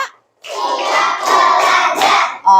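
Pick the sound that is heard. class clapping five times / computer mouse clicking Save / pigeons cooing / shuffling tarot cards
class clapping five times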